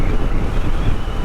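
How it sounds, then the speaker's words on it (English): Wind buffets the microphone while riding a Royal Enfield motorcycle on an Australian highway between Border Village and Caiguna, a loud, continuous, low roaring rush with no talking. "It's a little windy right now"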